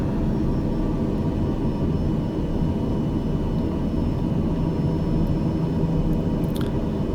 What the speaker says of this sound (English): Bring the throttle back down to idle here as we slow down.